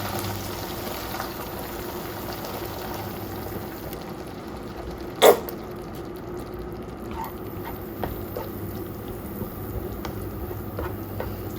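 Tuna, onion and tomato fry in a pan with a soft, steady sizzle and crackle, broken once by a single sharp clatter midway.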